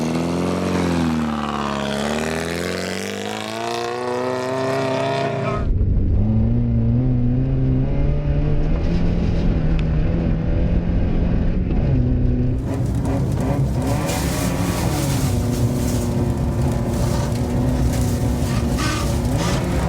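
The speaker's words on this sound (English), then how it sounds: "I gotta see what this front wheel drive ice racing's all about" Front-wheel-drive Rabbit ice racing car engine revving loudly, pitch climbing and falling through gear changes, close and continuous for the whole stretch with no talk.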